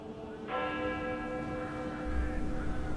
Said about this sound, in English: The dead bell tolled as I walked back through the chill and past the kitchen garden